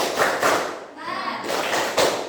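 Classroom pupils clap in rhythmic bursts for a spirited clapping chant, loud group claps broken by a brief shouted chant in the middle before the clapping resumes, close and energetic.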